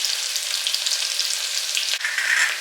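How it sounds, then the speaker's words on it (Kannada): Thinly sliced medium onions fry in hot oil with a loud, even sizzle, a dense crackling hiss up close with a brief stir partway through. "ಫ್ರೈ ಆಗಲಿ ಆಯಿಲಲ್ಲಿ. ಈಗ ನಾನು ಆನಿಯನ್ ಹಾಕ್ತಾ ಇದ್ದೀನಿ."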